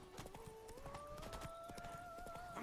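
Roach, a horse in Witcher 3: Blood and Wine, gallops with quick rhythmic hoofbeats under a rising game music tone, ending in a brief snort.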